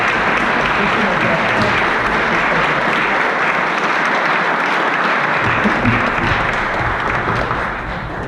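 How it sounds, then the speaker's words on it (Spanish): Audience applause for a female conductor at a pre-concert talk for a Mozart Jupiter Symphony program, a dense, steady wash of clapping from a full hall that fades slightly at the end. "un aplauso a la maestra"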